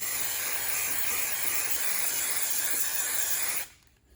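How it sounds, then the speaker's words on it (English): A steady, loud hiss of 3M 77 spray adhesive sprays continuously for about three and a half seconds, then cuts off abruptly, leaving quiet. "So all I'm gonna do is 77 spray."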